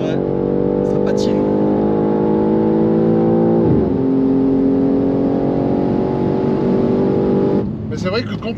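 BMW M3 tuned to 912 horsepower accelerating hard on a drag strip with wheels spinning, a loud sustained engine drone with a pitch drop midway, then continuing steadily before fading.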